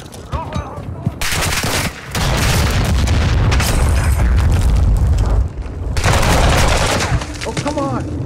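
Heavy gunfire and booming blasts from Call of Duty DMZ fill the clip, with loud sustained volleys and bursts, a short lull near two seconds and another break around five, with speech-like sounds mixed in.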